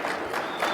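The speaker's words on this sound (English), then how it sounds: "I think we need a much louder round of applause, please." Applause and cheering from a large conference audience of about 1,400 people, a dense broadband wash of clapping that stays loud and steady through the short stretch.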